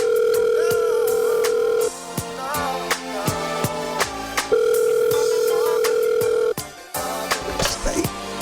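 A telephone call tone plays in two long steady beeps separated by a pause, loud and clear over a faint rhythmic beat on a radio show, with no voices.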